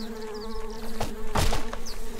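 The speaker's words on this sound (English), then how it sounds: "These are a lot of bees." A swarm of bees buzzing in the retro RPG Secrets of Grindea, a dense droning hum with overlapping wing whines and a few game impact sounds, fairly loud and without talk.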